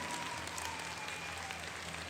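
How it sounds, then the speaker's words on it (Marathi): An audience at a Marathi dance show applauds from a distance, with a continuous wash of clapping beneath a steady low hum and no clear voices. "सगळ्यांच्या हात वरती आणि जोरात टाळ्या"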